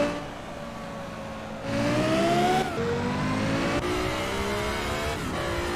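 Engine of a Lexus LFA in the racing video game Shift 2 revs high through several gear changes, each pitch climb broken by a sharp shift, loud and continuous.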